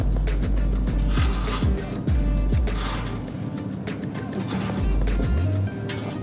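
A car with anti-skid chains fitted to its wheels drives off, a rhythmic series of low thumps and rattling clanks from the chains slapping as the wheels turn, close and fairly loud over engine rumble.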